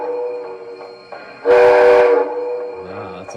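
An MTH Premier PS3 Virginian Triplex model train sounds its whistle once, a loud, bright, sustained blast of about three-quarters of a second, standing out over a steady background hum.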